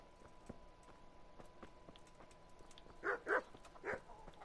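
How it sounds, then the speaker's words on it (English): Dogs in the video game Kingdom Come: Deliverance bark a few times in quick succession, fairly faint over quiet background ambience. "Bloody dogs."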